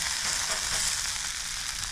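Food sizzles and crackles steadily in a frying pan on a Boundless Voyage camping stove, a close, even hiss with no break and no talking.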